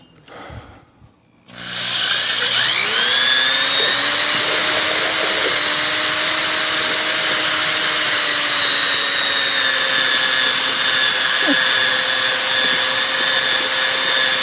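An ice cream machine churns peanut butter and jelly ice cream, starting up after a brief clatter and then running as a loud, steady motor whine with a constant hum for the rest of the clip.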